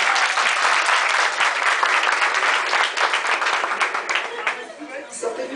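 Theatre audience at a comedy play applauding, dense sustained clapping from a sizable crowd that stays loud throughout and thins slightly toward the end.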